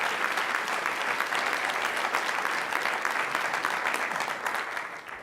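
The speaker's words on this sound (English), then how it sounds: "How about a round of applause for Tim Perrin?" Sustained, dense applause from a lecture audience at a Pepperdine School of Law event, steady and fairly loud throughout before tapering slightly at the end, with no voices over it.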